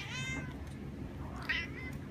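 A cat meows twice indoors in a home at night, a drawn-out call followed by a shorter, sharper one, fairly close over a low background rumble.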